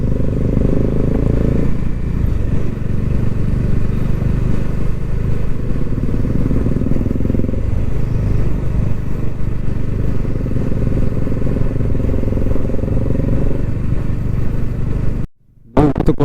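Motorcycle riding along a road on a Sunday ride, a steady loud engine drone with wind rumble throughout, close to the rider, briefly cutting out near the end.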